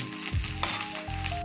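Cooked rice is stirred into capsicum in a hot pan, giving a steady close sizzle broken by quick scraping stirs and a light clink of the utensil.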